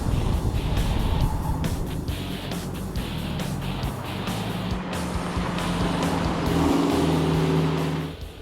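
A twin-turbo Gen III Hemi SRT8 Dodge Challenger runs an autocross cone course, its engine rumbling loudly and steadily up close, surging and settling between cones before tapering off at the end.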